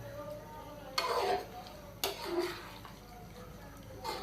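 Chicken biryani being stirred in a pot, with three distinct scraping, clattering strokes of a spoon against metal, roughly a second apart, close and moderately loud over a faint background hiss.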